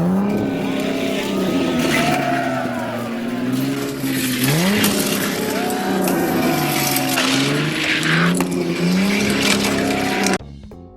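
Diecast toy race cars rolling down a track in a head-to-head race, heard as a loud continuous rolling whir with a wavering, engine-like tone throughout, ending abruptly.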